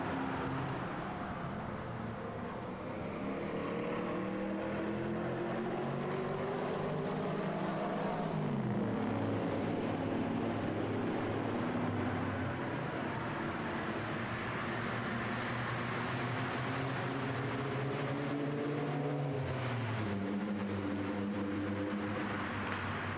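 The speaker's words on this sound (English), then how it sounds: "fährt hinauf Richtung Kurve 1 mit dem BMW 330 von RTH Motorsport" BMW 330 race car from RTH Motorsport at the Red Bull Ring during a Histo Cup classic race, engine droning steadily and loudly with rising and falling pitch as it accelerates toward turn one, alone without talk.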